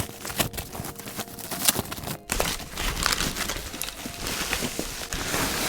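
Gaming setup parts being unwrapped from packaging, with continuous close crinkling and rustling of plastic and paper, irregular and moderately loud throughout.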